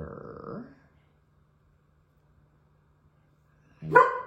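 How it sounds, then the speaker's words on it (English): A dog barks indoors in two short bursts: a brief bark right at the start, then near-silence, then a sharper, louder bark near the end. "No barking, Mila."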